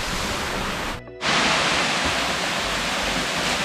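A strong waterfall of rushing water pours down a bush hillside, a loud, dense, unbroken roar heard up close, with a brief dip in level partway through before the full rush returns.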